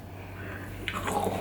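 Close crunchy biting and chewing of XO Crunch snack, a few crisp bites toward the end over a quiet background.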